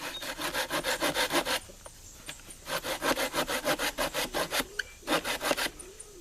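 Laplander folding saw cutting wood outdoors, three runs of quick rhythmic rasping strokes with brief pauses between them, close and clear.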